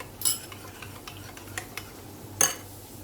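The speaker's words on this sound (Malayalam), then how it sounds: "നന്നായി മിക്സ് ചെയ്യാം നമുക്ക്." Egg mixture with a pinch of salt being stirred in a bowl for a cheesy egg skillet, with light scattered clinks of utensil on the bowl and two sharper taps, faint and close with no talk.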